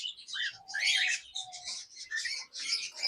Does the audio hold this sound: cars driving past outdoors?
no